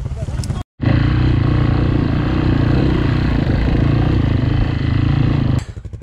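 A motorcycle engine drones loudly and steadily at close range during an off-road quad enduro ride, a rough buzzing hum that cuts out briefly near the start, with voices audible over it.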